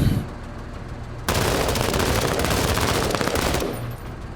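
Rifle fire in the video game Menace, loud rapid bursts forming a dense continuous volley for about two seconds after a quieter lead-in, then fading back down.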